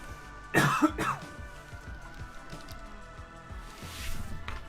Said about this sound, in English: Alright, 1 second, I'm about to cough.